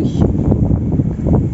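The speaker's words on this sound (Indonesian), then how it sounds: "anginnya kencang" Strong wind buffeting outdoors while sketching the bamboo frame of a 2.5-metre cotek kite, a loud, continuous low rumble with gusty swells throughout, close and dominant.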